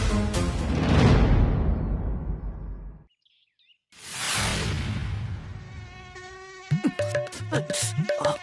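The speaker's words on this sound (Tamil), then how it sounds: "ஒவ்வொரு கொசுமும் வண்டு சைஸ்ல வேற இருக்கு" Swarm of large village mosquitoes buzzing close and loud, a whining drone that cuts out briefly and then returns with soft fluttering whooshes.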